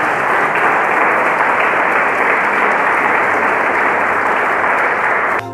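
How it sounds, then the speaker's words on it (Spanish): Church congregation clapping in praise, a loud, sustained wall of dense applause that fills the room evenly and cuts off abruptly at the end. "Damos aplausos al Señor."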